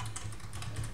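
Fast, steady clicking of keys on a computer keyboard while Arduino C/C++ code for a motion sensor is being typed, close and continuous, with no voices.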